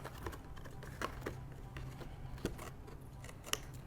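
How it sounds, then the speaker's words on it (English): Scissors snip down the sides and along the bottom of a cardboard box in a craft project, a series of quiet, irregular crisp cuts close by, with no talking. "So we'll cut down the sides of the box there and along the bottom."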